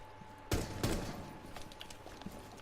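Gunfire in Rainbow Six Siege: two sharp, close shots in quick succession, followed by a few lighter, scattered shot cracks and impacts.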